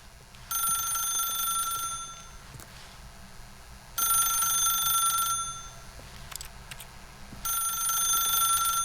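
A telephone rings in The Stanley Parable video game: three bursts of bright electronic ringing, each about a second and a half long, separated by short pauses, with no talk.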